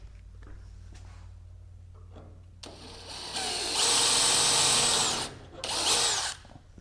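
A power drill bores a hole through aircraft metal while fitting a flaperon on a Zenith CH 750 CruZer kit plane, whining loudly in two long bursts over a low steady hum.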